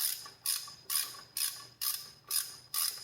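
Seven evenly spaced ratchet clicks ring out up close, with quiet pauses between them, as a ratchet and 1/2-inch socket work a bolt loose on a Mopar motor.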